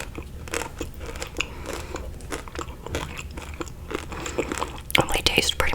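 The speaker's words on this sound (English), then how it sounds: "They got the crunchy coating and the chocolate in the inside." Close crunchy bites and chewing of large chocolate-coated British candies with a hard shell, repeated crisp cracks and crinkles, with soft whispered speech mixed in.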